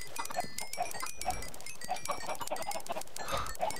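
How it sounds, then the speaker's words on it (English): Chickens clucking in the video game Minecraft, many birds on a crowded farm producing soft, scattered short clucks at a moderate distance with no talk. "We still got so many chickens left."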